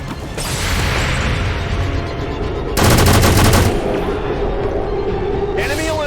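Gunfire in the turn-based tactics game XCOM 2: War of the Chosen, a continuous loud burst of rapid shots with a heavier volley in the middle, mixed with in-game voice barks.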